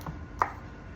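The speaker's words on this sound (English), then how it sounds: "let me get this all chopped up" A knife chops fermented basil and garlic on a cutting board, a single crisp close chop over faint kitchen background noise.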